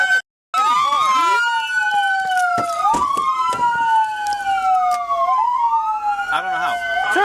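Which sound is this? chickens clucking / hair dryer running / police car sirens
police car sirens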